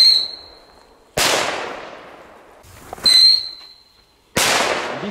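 Two short whistles each precede a loud, sharp firework bang that rings out and decays, close by and with no talking.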